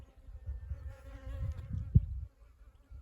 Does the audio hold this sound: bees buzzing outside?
yes